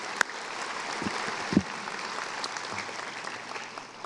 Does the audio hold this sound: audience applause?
yes